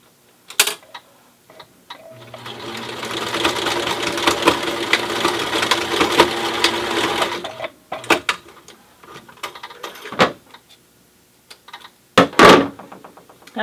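A sewing machine stitches across elastic on a cloth face mask, giving a steady mechanical whir for about five seconds, followed by scattered clicks and knocks of handling the fabric.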